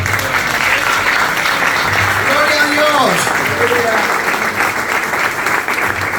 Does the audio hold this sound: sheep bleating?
no